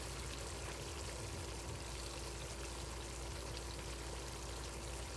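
Vodka poured from a bottle into a vegan pasta sauce in a pan over a low flame gives a steady, continuous liquid pour with a faint hiss, heard alone without talk.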